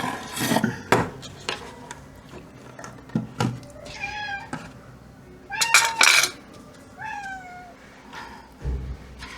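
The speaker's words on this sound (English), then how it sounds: "My lovely and beautiful cat." An anxious house cat meows several times nearby, rising and falling cries spread across a few seconds, mixed with clatter and knocks of small objects being handled.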